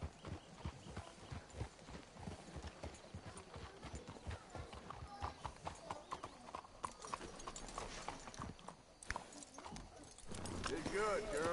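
Horses' hooves clip-clop in a steady, busy rhythm inside a video game, loud and close, with an occasional whinny; a voice talks over them, and the hoofbeats grow heavier toward the end.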